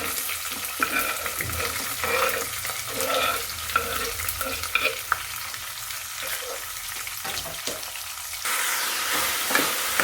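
Sliced onions and green chillies stir-frying in a pan for egg curry, a steady close sizzle with intermittent scraping and tossing sounds throughout.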